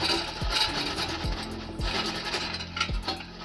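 A loose exhaust flex pipe on a BMW M440i being twisted and pulled, giving close scraping and rasping metal rubs with a few sharp low knocks spaced through it.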